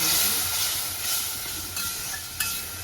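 Water splashed into frying masala for a matar mushroom curry, setting off a loud, continuous steamy hiss close by that stays even and broad throughout.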